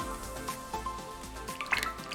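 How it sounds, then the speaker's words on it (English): Hot vegan breakfast mixture pours into a heat-proof container with a thick, wet dripping and squishing sound that stays close, soft and continuous. "we want to pour it in a container to stop it from cooking still"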